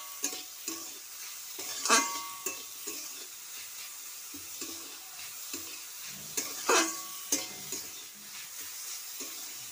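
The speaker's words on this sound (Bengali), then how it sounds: "সামান্য নুন দিয়ে একটুখানি ভেজে নেব।" Papaya pieces frying with a little salt in oil in a kadai, a quiet steady sizzle under periodic spatula stirs and a couple of sharper metallic scrapes against the wok, no speech.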